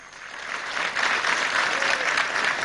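An audience at a Himalayan film festival claps for the dignitaries on the dais, a dense, continuous round of applause that swells after the first second and holds steady without voices.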